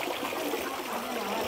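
Water pours continuously from a dragon-mouth spout at a Japanese village fountain, a steady close splashing trickle with no talk over it.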